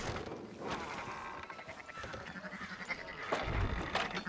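Sheep bleat several times over a busy, noisy background in the video game Red Dead Redemption 2 on PC, with a louder low bleat near the end.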